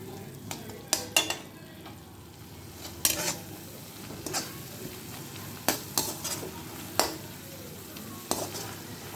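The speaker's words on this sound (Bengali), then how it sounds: "আর দিয়ে দিচ্ছি আরও কিছুটা লঙ্কা গুঁড়ো। ভালো করে কষিয়ে নেব।" Prawn curry masala with turmeric and chili powder being sautéed in a pan, a steady sizzle broken by repeated sharp spatula scrapes and clanks against the pan at irregular intervals, no voices.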